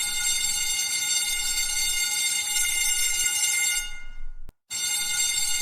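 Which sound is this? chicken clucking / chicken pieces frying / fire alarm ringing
fire alarm ringing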